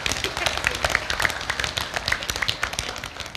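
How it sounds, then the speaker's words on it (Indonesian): Dense, steady applause from a large seated audience at a midwifery diploma graduation ceremony, many overlapping claps forming a continuous patter at moderate loudness. "Tepuk tangan untuk ayah, ibu, mama semuanya."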